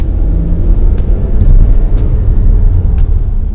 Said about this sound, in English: The turbo comes on strong. The 4-cylinder has a really lovely sound to it.